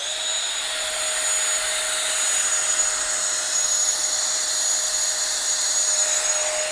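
A Tawugame cordless brushless 750W leaf blower running on turbo, a loud steady high-pitched whine and rush of air held close and constant throughout.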